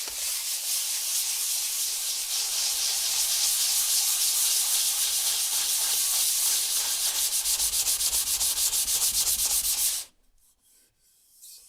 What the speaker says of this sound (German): Ich werde das Ganze jetzt mit einem 220er Schleifpapier leicht anschleifen